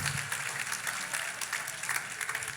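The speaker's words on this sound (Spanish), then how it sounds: "Aplauda a Dios porque Dios es sabio y el tiempo de él es perfecto." Church congregation applauding during a sermon, a short burst of steady, moderately faint clapping.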